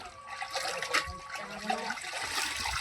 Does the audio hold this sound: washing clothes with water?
yes